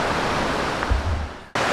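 A river rushes beside a hiking trail in Great Smoky Mountains National Park, a dense, steady roar close by with no voices, cutting off briefly near the end.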